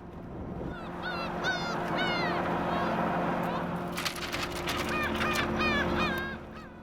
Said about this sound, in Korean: 갈매기만 신났다.